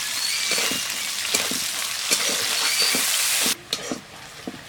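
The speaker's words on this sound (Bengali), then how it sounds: "দিয়ে দেব পেঁয়াজ কুচি। পেঁয়াজটাকে লাল করে নেব।" Chopped onion fries in hot oil with a loud, continuous sizzle that cuts off abruptly, followed by a few faint clinks of utensils.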